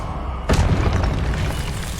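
A Confringo fire-blast spell goes off in the Hogwarts Legacy video game: a single sudden, loud explosive boom, followed by a rumbling, crackling tail that lingers.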